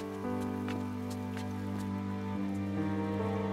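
Rain falls outdoors in a steady, even patter that holds for a few seconds alongside a constant hum, with no voices.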